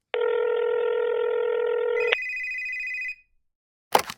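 A telephone call rings through: a sustained electronic tone, then a higher second tone, heard once before a short click after silence.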